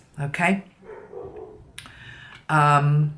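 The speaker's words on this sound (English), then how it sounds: "That's my dog, obviously, barking in the background." A dog barks a couple of times in the background, with a couple of quick yaps near the start and one louder bark at the end, mixed in with a person talking.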